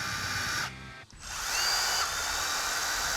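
A Milwaukee M18FID2 18V cordless impact driver runs in a loud, high-pitched whine, cuts out briefly, then revs back up and holds steady close to the listener.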